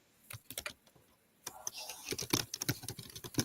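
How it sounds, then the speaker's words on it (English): Quiet clicks of typing on a computer keyboard during an online meeting come in sparse bursts at first, then quicken into a denser run of keystrokes, close and soft. "I should have muted myself so I didn't make noise while I was typing"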